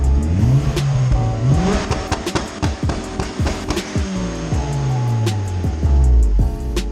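A turbocharged, high-compression Honda D16 engine with a GSR tune revs hard several times, its pitch sweeping up and falling back in loud, close, repeated pulls with a steady mechanical roar between them.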